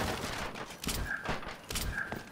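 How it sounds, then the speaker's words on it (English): An assault shotgun fires in the video game Resident Evil 6 as several quick booming blasts in rhythmic succession, moderately loud over a dense game background. "Assault shotgun! Awesome! Now we got shotguns."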